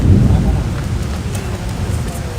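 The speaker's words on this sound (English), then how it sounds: "the rain does not stop me" Heavy rain pours outdoors at a street protest at the Department of Justice, a loud, steady wash with deep rumbling underneath and no clear pauses.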